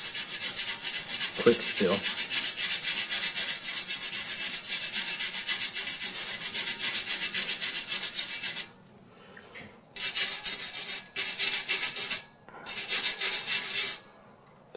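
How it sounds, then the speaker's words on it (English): A wire brush scrubs rapidly and steadily around a hole to clean it before epoxy putty goes on, a close, raspy scratching that breaks into short bursts near the end, with a few brief spoken words. "I'm going to take a wire brush and just kind of clean it up a little more around this"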